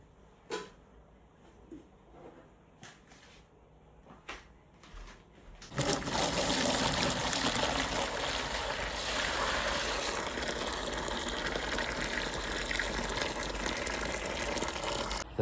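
Hot water mixed in for a baby's bath comes out in a loud, continuous gushing pour that starts abruptly after a few quiet knocks and keeps rushing close by without letting up.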